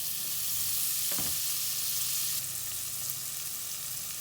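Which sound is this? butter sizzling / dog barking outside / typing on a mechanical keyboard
butter sizzling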